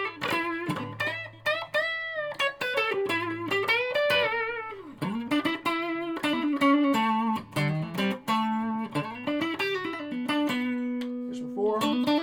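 Electric guitar with a P90 pickup played through an amp's mild distortion channel, a run of sustained melodic notes and slides, close and alone.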